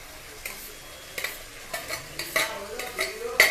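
Chicken fries in a pan while a spoon stirs it, giving a soft sizzle with intermittent scraping clicks as the pieces are turned, close and fairly quiet.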